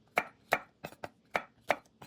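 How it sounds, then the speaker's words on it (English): Knife chopping coyote teeth peppers on a cutting board, six crisp separate chops in an uneven rhythm, close and clear with no talk. "So I'm gonna start by chopping up the 2 ounces of coyote teeth peppers."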